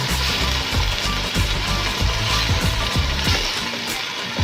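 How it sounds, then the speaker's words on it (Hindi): Tomato paste frying in a pan while cooking chicken kofta, a steady crackling sizzle with dense irregular pops and small knocks, close and continuous with no talk. "अब हम इसमें 2 टमाटर का पेस्ट ऐड कर देंगे और इसको भी अच्छे से फ्राई करेंगे।"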